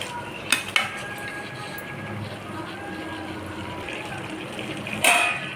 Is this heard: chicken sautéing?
yes